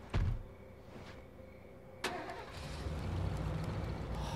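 Car engine in the video game State of Decay cranks and catches with a loud burst, settling into a steady running drone as the vehicle pulls away, no voices present.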